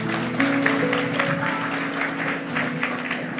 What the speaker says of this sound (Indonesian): Kasih tepuk tangan untuk Anda sendiri.